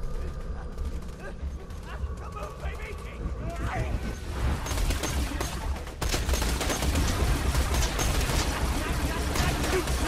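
Continuous gunfire in the video game Borderlands 2 during a bandit fight, dense rapid shots growing louder and busier in the second half, with a voice briefly audible underneath.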